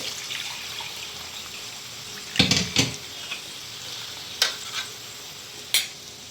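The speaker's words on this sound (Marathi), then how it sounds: "आपली अशी कडक अशी फोडणी तयार झालेली आहे आणि आपण आता पाणी टाकू त्याच्यामध्ये" Water goes into a hot tempering in a pan for a horse gram shengole dish, giving a soft sizzle broken by a few sharp splashing bursts and clinks of a vessel.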